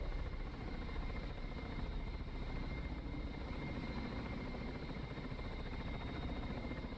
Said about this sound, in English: Look at this helicopter. This thing is a beast.